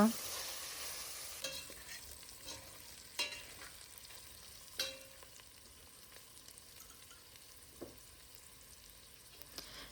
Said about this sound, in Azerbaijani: Əti soğanla da biraz qovururam burada.